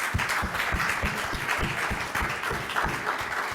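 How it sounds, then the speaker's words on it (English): Audience applause at a project's final conference, a steady wash of many hands clapping at even volume throughout, honoring the round table workers. "let's give him a big applause to them"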